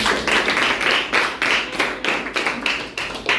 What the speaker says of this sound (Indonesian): beri tepuk tangan buat Nabila.